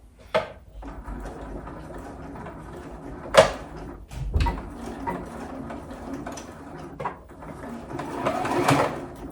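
A sewing machine stitching a bomber jacket runs in close, busy bursts with mechanical clatter and a few handling knocks, with no voices over it.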